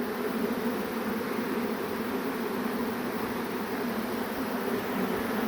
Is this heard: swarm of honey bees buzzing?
yes